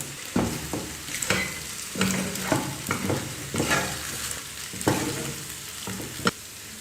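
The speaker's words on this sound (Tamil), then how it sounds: "பாஸ்தாவை போட்டு கலந்து விட்டு மீடியம் ஃப்ளேமில் ஒரு 2 நிமிஷம் நல்லா கலந்து விட்டுட்டேன்." Macaroni pasta being stirred in a pan over a medium flame, a spoon scraping and tossing in a repeated rhythm of strokes over a soft sizzle, close and clear with no talk.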